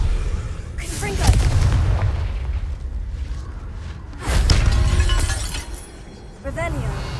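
Confringo spells are cast in the Hogwarts Legacy video game, each hitting with a loud, booming, shattering blast. Two main bursts land a few seconds apart, with a voice and softer whooshing and crackling between them.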